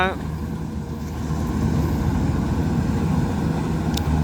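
A Kubota DC93G combine harvester with a 93-horsepower engine runs steadily nearby, a loud, continuous low drone holding even throughout without pause.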